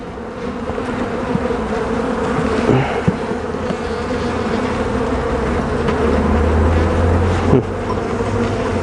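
Honeybees swarm around an open hive during a springtime inspection, producing a dense, steady buzzing drone close to the microphone, with individual bees passing by and no talking.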